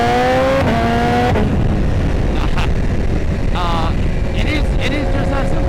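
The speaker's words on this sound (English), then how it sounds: "Like, honestly, I love the exhaust. It sounds amazing." A BMW S1000RR motorcycle with a Vandemon full titanium exhaust roars loudly and close, its note falling over the first second, then giving way to steady road and wind noise broken by short revs.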